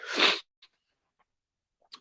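A single sharp sneeze, close and fairly loud, followed by near silence with a few tiny rustles.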